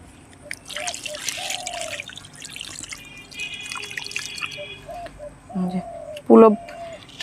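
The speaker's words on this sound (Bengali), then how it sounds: "এই বালির উপরে আমি এখন জল দিয়ে দেবো।" Water is poured and trickles onto washed sand being prepared for planting hibiscus cuttings, a soft, intermittent dribbling and dripping close by, with birds chirping in the background and a louder splash near the end.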